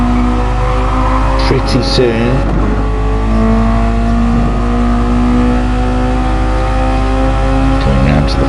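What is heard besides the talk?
racing car engines in a racing video game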